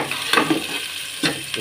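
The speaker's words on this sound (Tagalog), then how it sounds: "Pinagpritoan ko, dito na rin ako magigisa." Garlic and onion sautéing in olive oil in a pan, a bright continuous sizzle with a couple of spatula scrapes, close and fairly loud.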